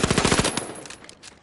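Rapid automatic gunfire from a weapon in the video game The Finals, a dense burst of loud, closely spaced shots that thins out and fades toward the end, with no voices.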